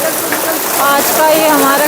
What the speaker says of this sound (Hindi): बारिश आ गई है बहुत तेज़